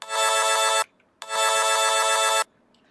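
Looped vocal saw sample played from a sampler with bit crushing, two loud buzzy bursts of harsh, gritty tone separated by a short gap, with no talking.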